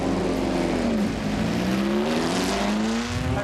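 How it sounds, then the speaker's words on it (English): A 1967 Lotus 49 Grand Prix car pulls out of the pit lane at Silverstone, its engine droning loud and close with a rising, revving tone that climbs steadily as it accelerates, no voices over it. "we're leaving the pit lane in this 1967 Lotus 49"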